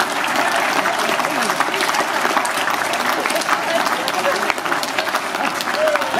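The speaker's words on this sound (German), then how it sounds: "Und bitte weiter klatschen." Steady, dense clapping from a crowd at a 2017 cattle show in Uttendorf-Stuhlfelden, sustained at an even level throughout with a faint voice underneath.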